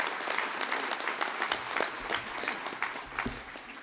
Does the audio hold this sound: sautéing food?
no